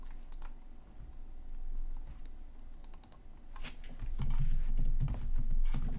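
Keys tapped in irregular bursts on a computer keyboard while text is entered into a PowerPoint slide, close and moderately loud, with a denser clatter of keystrokes toward the end and no talking.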